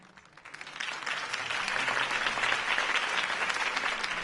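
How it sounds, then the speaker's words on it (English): Applause swells from a quiet start into a steady, sustained roar of many clapping hands, continuing loudly to the end, from the video game Batman: The Telltale Series. "could have heard that applause"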